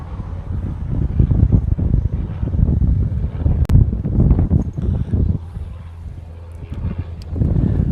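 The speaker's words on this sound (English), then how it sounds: "the wind is starting to pick up pretty good right now" Gusty wind at Honolulu airport buffets the microphone with a loud, uneven low rumble that surges and eases over several seconds, with no talking.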